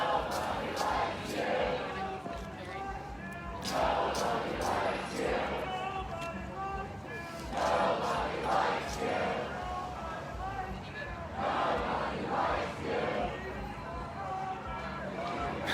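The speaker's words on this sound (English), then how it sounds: "They're chanting, "Nobody likes you, not even your mother."" Outside the Multnomah County Sheriff's Office in Northeast Portland, a protest crowd chants in repeated rhythmic bursts, loud and massed with voices carrying between phrases.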